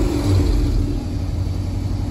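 A 1985 Dodge Ram 100 pickup with an electric choke that tends to hang up idles with a steady, low, close engine rumble, alone with no talk.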